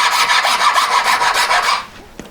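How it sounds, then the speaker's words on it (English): A hand file rasping across a handmade metal leaf ring in fast, even back-and-forth strokes, loud and close, for about two seconds before it stops. "So filing one side,"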